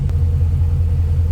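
A 1966 Dodge Coronet Deluxe two-door sedan with a 5.7 Hemi V8 idles in a steady, deep rumble, close and unbroken, with a low throbbing pulse and no voices.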